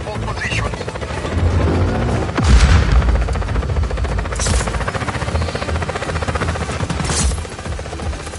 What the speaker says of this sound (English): We read you, enemy in a helicopter.